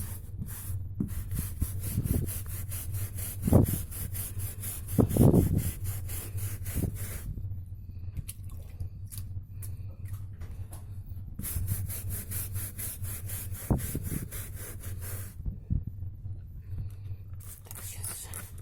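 A stiff brush rasps back and forth across carpet pile in repeated scrubbing strokes, close and fairly soft, with a short pause midway before the rhythmic rubbing resumes.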